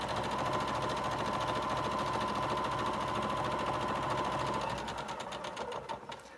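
A sewing machine stitches steadily while pieces for a sling bag are sewn, a loud, even mechanical whir that runs continuously before slowing and stuttering into separate clicks near the end.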